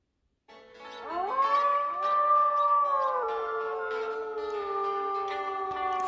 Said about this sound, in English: Sounds like some other wolves are also howling with me.